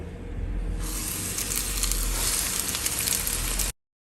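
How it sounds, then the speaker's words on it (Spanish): Coated stuffed chayote, dipped in egg and drained, sizzles and crackles steadily as it fries in a pan with plenty of oil. The sound is loud and continuous, with no talking. "lo vamos a llevar al sartén donde tenga bastantito aceite"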